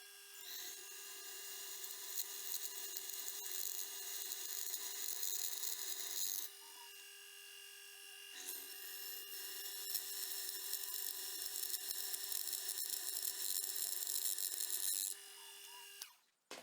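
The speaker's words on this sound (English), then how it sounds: "So let's go ahead and get these holes drilled" A drill bores 1/8-inch pin holes into the tang of a skinning knife forged from rusty spring steel, giving a steady high-pitched whine with a grinding, rasping edge in two long runs separated by a brief pause, close up.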